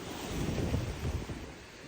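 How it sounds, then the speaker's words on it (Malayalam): Sea waves break and wash against the shore in a steady, rumbling surge, with wind buffeting the microphone throughout and no voices. "കടലിൽ നിന്ന് വെള്ളം വന്നിങ്ങനെ തിര അടിക്കുമ്പോഴത്തേക്കിനും എന്തോ രസം അവിടെ നിന്ന് കാണാൻ വേണ്ടി"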